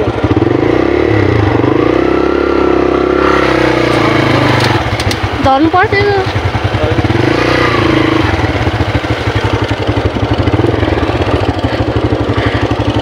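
A scooter engine drones and revs unevenly, sounding strained as it labours to pull, running loud and continuous throughout while people talk over it.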